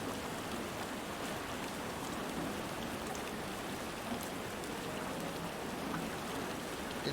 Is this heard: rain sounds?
yes